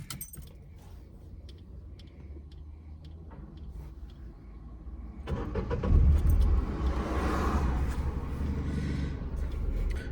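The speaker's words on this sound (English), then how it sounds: "As you can hear, the car has been started up" A car engine cranks and catches partway through, the quiet cabin with faint clicks suddenly filling with a loud, rough running rumble that holds steady to the end.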